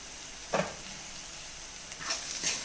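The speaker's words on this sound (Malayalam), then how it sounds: "ഒന്ന് ഇളക്കി കൊടുക്കാം" Sliced onions softening over a low flame in a pan while a spoon stirs them, giving a faint steady sizzle with a couple of brief scraping strokes, close and quiet, no talking.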